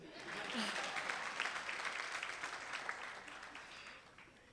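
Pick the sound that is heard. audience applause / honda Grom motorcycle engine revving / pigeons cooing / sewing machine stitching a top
audience applause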